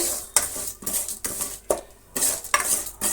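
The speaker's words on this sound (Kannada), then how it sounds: "ಹಾಫ್ ಸಿಮ್ಮನ್ನು ಇಟ್ಕೊಂಡೆ ಇವುಗಳನ್ನು ಫ್ರೈ ಮಾಡಿ" Eggplant pieces fry in oil in a pan over a medium-low flame for a brinjal curry, with a soft sizzle under several close, rhythmic stirring scrapes of a metal spoon.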